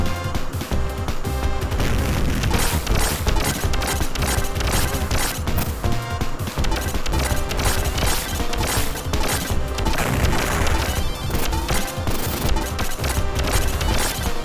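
Bomb blast in the Contra video game, a dense, loud burst of crashing booms and rapid gunfire-like impacts that continues steadily throughout, with no voices.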